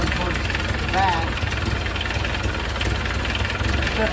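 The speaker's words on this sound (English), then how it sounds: "Still got an exhaust leak going towards the back." A 1931 Ford Model A engine idles with an exhaust leak, giving a loud, steady, close rumble with rapid puffing pulses throughout, and a voice is faintly present.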